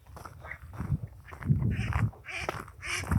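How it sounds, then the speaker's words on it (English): Ducks calling in a marsh, a series of nasal quacks and chatter overlapping in irregular bursts, moderately near and fairly soft. "Some ducks calling over there to our left."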